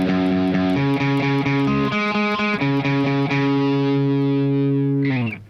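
Distorted electric guitar plays a riff, loud chugging power chords and single-note moves in a steady rhythm that ends on a ringing chord, played alone with no voices.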